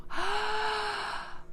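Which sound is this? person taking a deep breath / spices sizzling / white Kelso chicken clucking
person taking a deep breath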